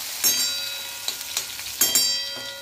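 Crushed garlic, cumin and mustard seeds hit hot oil, crackling in a close sizzle broken by sharp, scattered pops, with no voices.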